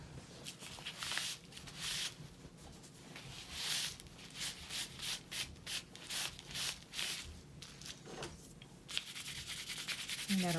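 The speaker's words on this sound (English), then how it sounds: "You can rub off the little spots, kind of like a rubber eraser" A dry towel rubs and scrubs off little spots of glue from a paper craft tag, giving repeated close scratchy strokes in uneven bursts with no talk.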